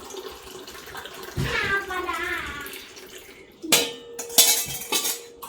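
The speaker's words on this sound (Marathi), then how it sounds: "म्हणून आपण गुळाचं पाणी असं गाळून घ्यायचं" Jaggery water strained through a sieve into a vessel for a sweet puri filling: a close trickling pour of water, then several sharp clinks of metal utensils against each other.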